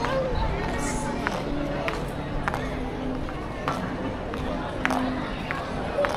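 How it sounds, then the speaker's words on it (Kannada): A crowd of people fills the Singapore sky walk, a steady murmur of distant chatter and shuffling footsteps with a few sharp knocks, moderately loud throughout. "ಕ್ರೌಡ್ ಅಂತೂ ಫುಲ್ ತುಂಬಿದೆ."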